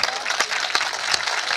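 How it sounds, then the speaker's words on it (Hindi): A crowd at Hariom Pawar's poetry recital applauds in a busy, continuous patter, with a few sharper individual claps standing out near the front. "इतनी तालियों से नहीं होगी साहब"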